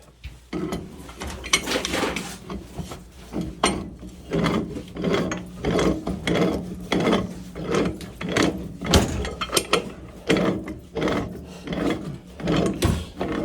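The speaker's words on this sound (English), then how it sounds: "I'm gonna get a 24-inch rigid pipe wrench and tighten this up" Tightening a steam boiler pipe fitting with a 24-inch Ridgid pipe wrench during a Burnham boiler replacement: a close, repeated series of ratcheting, scraping metal strokes in a steady rhythm, with no talking.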